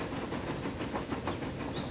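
Steady rumbling clatter of a passing train in the Transport Fever video game, continuous and moderately loud with a rhythmic wheel clack and a faint hiss, no voices.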